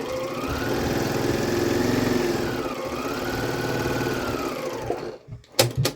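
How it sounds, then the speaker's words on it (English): A sewing machine runs steadily, stitching a quarter-inch seam on a quilt block, its rapid motor whir continuing for about five seconds before stopping, followed by a few soft handling clicks. "and I'm going to sew down this other side."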